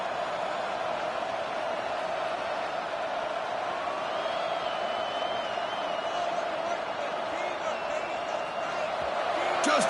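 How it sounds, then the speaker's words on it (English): Home crowd at a USC vs Texas college football playoff game, a steady, dense roar of cheering held at an even level throughout, with a few whistles rising above it. "this home crowd is fired up and ready to make a difference today"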